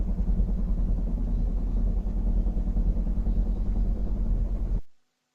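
Impact noise through a tile build-up floor as heard from the apartment below in a residential building: a steady, muffled low rumble of dull, rapid thuds lasts about five seconds before cutting out.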